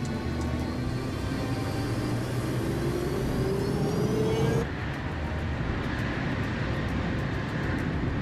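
A jet airliner powers up for takeoff on runway 08 right, a loud steady roar with a rising whine that climbs in pitch, then shifts abruptly to a broader rushing rumble as it accelerates.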